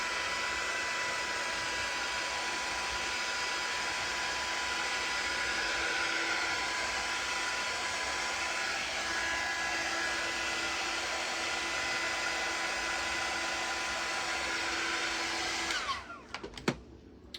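A hair dryer blowing over a craft project, a steady loud whir held for about sixteen seconds before it switches off abruptly, followed by a few small clicks and handling sounds.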